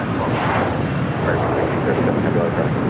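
Jet airliner engines roaring steadily on runway 25 right at Los Angeles LAX during takeoff, a loud continuous broadband rumble throughout, with faint talk in the background.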